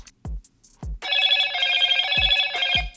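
A Motorola Edge 50 Fusion smartphone plays its ringtone as a volume preview: a bright, steady electronic ringing melody, preceded and interrupted by several soft low taps as the volume bars are adjusted.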